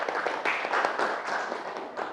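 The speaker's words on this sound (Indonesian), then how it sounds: "Yang kuat tepuk tangannya." A classroom of students clapping for a student group after its presentation, a dense, steady patter of many hands lasting about two seconds, fairly close and moderately loud, with no talk over it.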